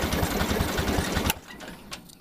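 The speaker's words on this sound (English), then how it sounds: "Now we should see a spark when we're cranking" Small Cub Cadet Lo Boy 154 garden tractor engine cranking over on the starter with a fast, steady churning rhythm, loud and close, then cutting off abruptly and leaving faint background noise.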